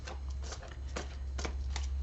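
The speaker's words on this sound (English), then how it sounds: "I am going to shuffle and pick an angel oracle card for you" A deck of angel oracle cards being shuffled by hand: a quick series of crisp riffling, papery flutters in a steady rhythm, close and clear over a low steady hum, with no talking.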